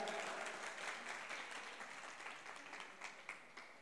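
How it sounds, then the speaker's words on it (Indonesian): A studio audience at a Ramadan celebration show gives a round of applause for a visiting university community group, softly at first and thinning toward the end into a few separate, distinct claps. "Tepuk tangan buat kalian."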